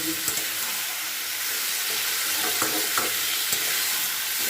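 Masala for a bitter gourd and potato curry frying in a pan, a continuous close sizzle broken by a few sharp scrapes and taps as it is stirred.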